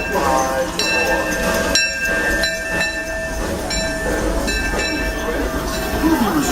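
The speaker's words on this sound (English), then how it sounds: "Disneyland Limited now arriving from a trip around Walt Disney's Magic Kingdom." The Disneyland Railroad's Disneyland Limited train pulls into the station with a steady mechanical rumble and a hiss. Sustained whistle-like tones ring over it and fade in and out, all moderately loud and close.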